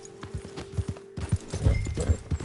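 A horse's hooves clip-clop in Red Dead Redemption 2, a quick, close, rhythmic trot of sharp steps with a brief pause partway through.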